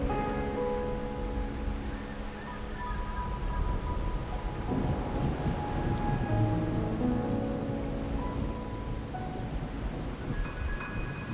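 Rain pours steadily with a deep thunder rumble in the video game Wuthering Waves, a dense, continuous wash of falling water over a low roll, layered with sustained musical tones and no talking.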